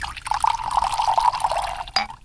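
Water is poured steadily into a container in a home kitchen for a glass of drinking water, a continuous close trickle that cuts off with a small splash at the end.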